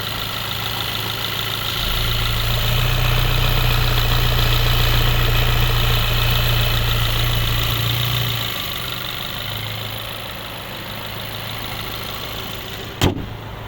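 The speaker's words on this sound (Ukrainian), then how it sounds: "Вихлоп з настройками, різний звук." A 2012 VW Golf VI GTI 2.0 TSI engine idles steadily with a low, tuned exhaust rumble that swells briefly, then settles back; a short sharp click near the end.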